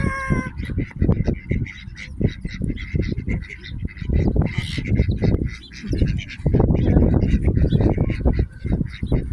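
Wild duck being fed in New Zealand, giving loud, close, rapid honking quacks in repeated bursts with short pauses, with a little background talk.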